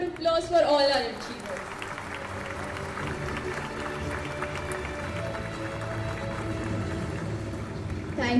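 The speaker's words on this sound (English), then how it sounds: "Can we please have a huge round of applause for all our achievers?" An audience applauds achievers at a school annual day celebration, a brief loud burst at first, then sustained, moderate clapping under background music and activity.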